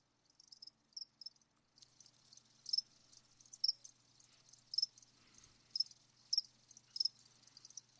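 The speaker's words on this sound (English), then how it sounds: "That's all we hear. Crickets." Crickets chirp in steady, repeated bursts roughly once a second, clear and fairly close against a quiet night background with a faint low hum underneath; no voices.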